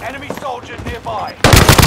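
A short burst of rapid gunfire in the video game Call of Duty: Modern Warfare cuts in loudly at the end, after a voice talks over game sounds.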